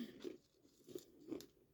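Crunchy bites of a treat: three crisp, close crunches spaced roughly half a second apart, quiet and alone.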